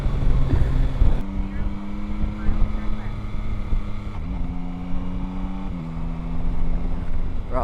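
A 2022 Yamaha Tracer 9 GT motorcycle being ridden at speed, its engine droning steadily under heavy wind rush, with clean pitch steps as the quick shifter changes gears, and a rider's voice speaking over it.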